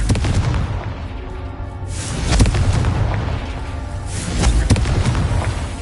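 Confringo blast spell in Hogwarts Legacy, loud booming explosions with a rumbling, crackling tail, two big surges a few seconds apart.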